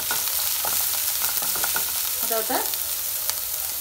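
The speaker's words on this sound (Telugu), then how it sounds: "ఇదంతా ఒకసారి ఇలా ఫ్రై చేసేసుకోవాలి, కొద్దిగా సాఫ్ట్ అయితే సరిపోతుంది" Sliced cabbage and finely cut curry leaves sizzling in a pan, a steady close frying hiss broken by a few stirring scrapes, with a short spoken remark over it.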